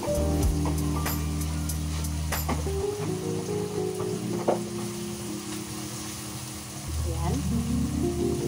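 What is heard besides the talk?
sautéing tomatoes for eggplant omelette with sardines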